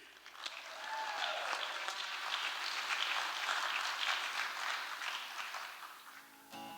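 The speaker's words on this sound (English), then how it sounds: "let's give a big round of applause to Beaudry" A theatre audience at the FisherPoets Gathering in the Liberty Theatre gives sustained applause for poet Lou Beaudry, a dense, even wash of clapping that holds steady for several seconds and then tapers off.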